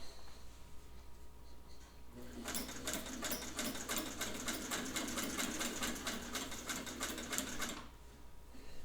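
A 1958-59 Singer 185J sewing machine, freshly overhauled, stitches steadily for about six seconds, a fast, even mechanical clatter rising from a quiet room and stopping abruptly.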